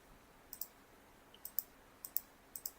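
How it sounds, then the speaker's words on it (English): Sharp computer mouse clicks come in quick pairs, four double-clicks spaced evenly over a quiet background while a game runs on Windows 11. "clicking everything else doesn't do anything"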